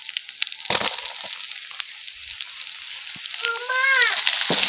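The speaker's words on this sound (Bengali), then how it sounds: "এবার এর মধ্যে দিয়ে দিচ্ছি কুচিয়ে রাখা পেঁয়াজ" Chopped onion frying in hot oil with bay leaves and whole spices, a steady close sizzle broken by a few sharp clatters, rising louder near the end.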